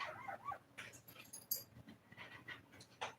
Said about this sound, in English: Oh, we got a puppy butt crying. Or, well, not crying, but not happy.